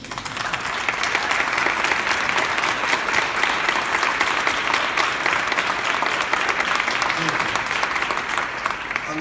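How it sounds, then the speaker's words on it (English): Audience at a press event for a trauma-informed care act gives Deshaun and Artisha a sustained round of applause, loud, even and continuous throughout. "give you a real round of applause"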